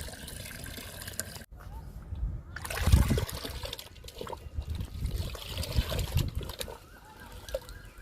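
Liquid fertilizer mixed from two kinds trickles and splashes onto the soil around fruit plants outdoors, an uneven pour with a louder splatter partway through.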